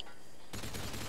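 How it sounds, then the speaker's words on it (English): Call of Duty Modern Warfare 2 multiplayer gunfire: after a brief quiet moment, a sudden loud burst of rapid automatic shots fills the rest of the short stretch. "Someone's shooting me."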